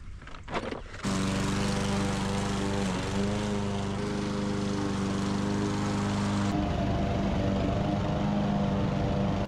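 A mower engine starts after a brief rustle and then drones loud and close at a steady pitch while cutting a golf course tee box. The tone shifts slightly partway through.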